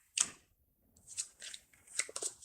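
Playing cards riffled and shuffled in short bursts during a solo tabletop game, crisp papery flutters separated by brief pauses, fairly quiet and close with no talking.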